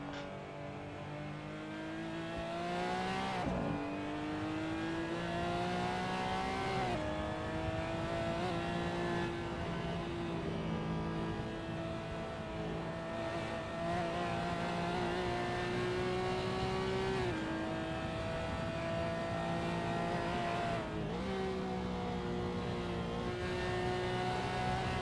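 A Porsche Cayman GT4 race car lapping Sonoma Raceway, its engine note rising steadily through the gears, then dropping briefly at each shift and braking point before climbing again, loud and close from onboard without any talk.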